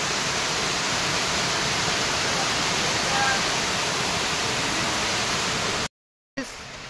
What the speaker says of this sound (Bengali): এই যে আমাদের ঝর্ণা নামছে উপর থেকে